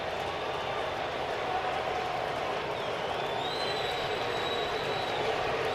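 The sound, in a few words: baseball stadium crowd cheering, Padres at Mariners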